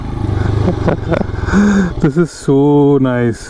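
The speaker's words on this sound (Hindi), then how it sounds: "बस ऐसे टाइम पास में बाइक को घुमा रहा हूँ मैं" A 2022 Royal Enfield Scram 411 motorcycle rumbles steadily as it is ridden, its low engine drone running close and continuous beneath someone talking over it.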